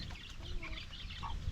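A mother hen clucks in short, soft bursts close by, a few brief calls over a low background hum, with no talking.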